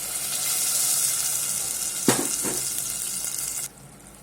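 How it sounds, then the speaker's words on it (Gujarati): Crushed tomatoes hit hot oil seasoned with asafoetida in a pressure cooker, giving a loud, steady sizzle with a sharp burst of crackling midway, then cutting off abruptly near the end. "હવે કુકરમાં મોટો ચમચો તેલ લઈ લીધું છે એની અંદર હિંગ નાખી દીધી છે અને આપણે આ ક્રશ કરેલા ટમેટા વઘારી દઈશું"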